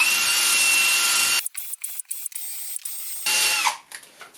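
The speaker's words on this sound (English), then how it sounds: "I'm just going to whiz up with a buffing wheel." A power tool spins up with a buffing wheel to polish a classic car dashboard, running loud and steady, then cutting out into a stretch of short bursts before a second steady run.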